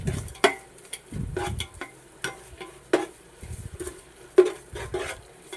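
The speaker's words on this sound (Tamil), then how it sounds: "தேங்காய் கொத்தமல்லி சாதத்துக்கு உப்பு போட்டு நல்லா நம்ம கிண்டிக்கிடுவோம்." Salt is stirred into coconut coriander rice in a metal pot, making irregular scraping and clinking strokes of a ladle against the pot over a faint sizzle, close by.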